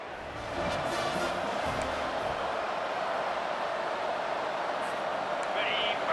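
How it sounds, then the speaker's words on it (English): Stadium crowd roaring throughout at a college football game in College Football 25, Louisiana Ragin' Cajuns visiting Clemson, a loud dense wall of cheering that swells in after half a second and holds steady. "This crowd bringing an ear-splitting welcome to their visitors."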